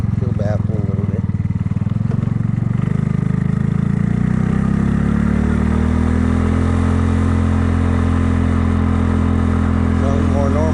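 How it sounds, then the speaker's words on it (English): A Kymco People 250 scooter engine running after its exhaust leaks were sealed with high-heat JB Weld, a loud, close, steady idle with a low throbbing pulse that settles into an even drone, and brief talk near the start and end. "Sounds like a normal scooter."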